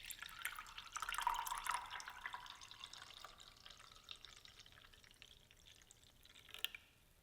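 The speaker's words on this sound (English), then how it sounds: "squeeze the nut milk bag to get as much juice out as possible" Celery juice drips and trickles from a squeezed nut milk bag, a faint, close liquid patter that swells briefly early on, then thins to scattered drops with a small splash near the end.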